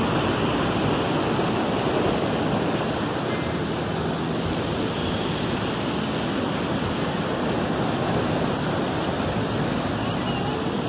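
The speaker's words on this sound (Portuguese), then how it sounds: "Água doce, misturando com água salgada." Fresh river water running into salty sea water at a beach, heard as a loud, steady broadband wash of surf and flowing water with wind buffeting the microphone, constant for the whole stretch.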